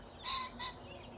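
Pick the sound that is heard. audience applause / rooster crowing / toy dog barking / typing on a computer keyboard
rooster crowing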